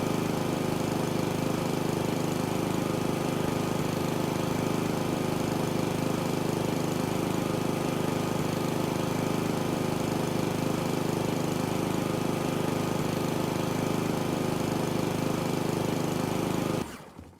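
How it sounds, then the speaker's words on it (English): Lawn mower cutting grass in the House Flipper 2 video game: a continuous droning engine hum with a rough, buzzing tone, loud and steady for the whole stretch before cutting off abruptly at the end, with no talking. "And that is the mowing done there."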